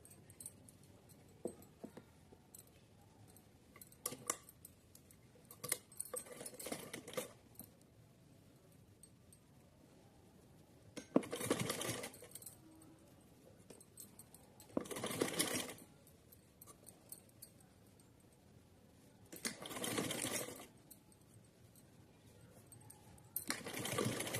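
Sewing machine stitching a doubled cotton fabric strip, in several short bursts of rapid whirring separated by quiet pauses, with small handling clicks between runs.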